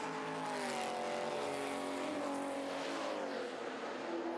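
BMW Z3M Coupe race car at speed on a circuit, a loud, steady engine roar that stays close and sustained with slight pitch shifts as it pulls along the track.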